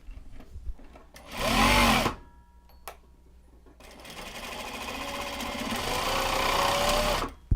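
A sewing machine stitching a Japanese fabric project bag runs in a short loud burst, pauses, then hums through a longer steady run of close, whirring stitches.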